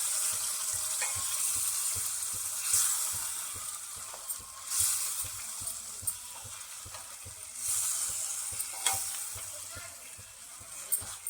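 Prawn curry masala for an Agri-style kolambi rassa sizzling softly in a pot while being stirred, with faint intermittent scrapes and splashy bursts over a low, steady hiss.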